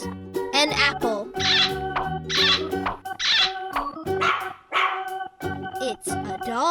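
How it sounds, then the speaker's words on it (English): Cartoon dog barking in a children's farm-animal cartoon: short, bright barks over a bouncy musical backing, with other cartoon animal calls mixed in. "It's a dog."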